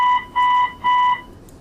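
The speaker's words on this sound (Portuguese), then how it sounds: "Quando esse alarme tocou no Centro de Operações da Polícia Militar de São Paulo" A monitoring alarm in the São Paulo Military Police operations centre sounds three loud, even electronic beeps in steady rhythm, each about a quarter second long, with nothing else heard.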